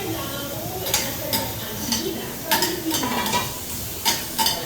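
Chicken breast fries in hot oil with a constant sizzle throughout, punctuated by sharp scraping and clinking strokes of stirring in the pan.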